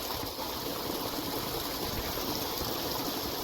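Water runs steadily along an irrigation channel beside a rice paddy field, a continuous close rushing wash with no voices over it.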